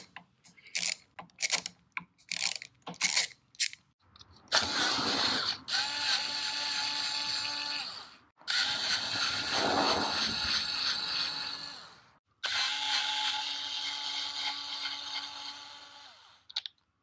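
A wrench loosens nuts on a Honda motorcycle during a GPR V5 steering stabilizer installation. A few sharp, separate clicks are followed by three long, loud, sustained mechanical whirring bursts with short gaps between them, close to the microphone.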